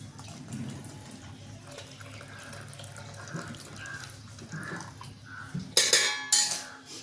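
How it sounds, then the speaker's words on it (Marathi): Water splashes and sloshes close by as boiled leafy greens are squeezed in cold water, with soft wet handling and a few sharp clinks of a metal pot toward the end. "थोडंसं थंड पाणी टाकून ही भाजी पिळून घ्यायची आहे"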